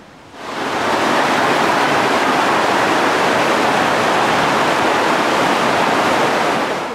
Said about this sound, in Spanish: Así es, una cascada